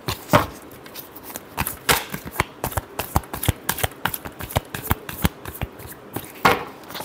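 Tarot cards being shuffled by hand, a quick run of sharp, close riffling snaps and soft slaps in an uneven rhythm, alone without talk.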